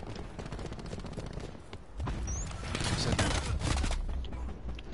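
Rapid automatic gunfire in the online shooter Black Ops 4 rattles in dense bursts, with an SMG spraying and the firing growing heavier and louder in the second half, while a player's voice talks underneath.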